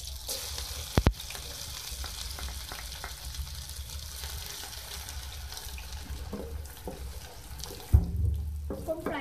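Onions frying in oil in a pan, a fairly quiet steady sizzle with a few sharp clatters of a utensil near the start and near the end, close by, with no speech.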